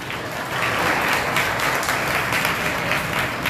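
Sustained applause from a crowd at a public gathering, many hands clapping together in a dense, even wash that holds steady for a few seconds.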